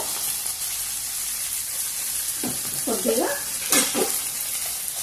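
Capsicum pieces with turmeric fry in ginger-garlic paste, a continuous bright sizzle and hiss throughout, close by, with a few brief scraping stirs partway through and no speech.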